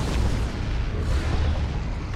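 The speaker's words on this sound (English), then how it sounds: "Artillery all that incoming." Heavy artillery explosions pound the battlefield in the strategy video game Dawn of War 2 Retribution, a continuous low rumbling roar of overlapping blasts at steady, loud volume.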